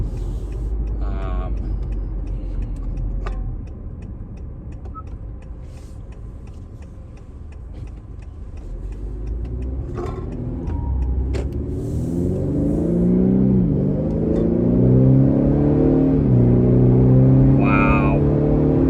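A car idling at a stop with sports mode engaged, its engine rumbling low and steady before rising into a louder, throatier rev, with faint ticking in the cabin.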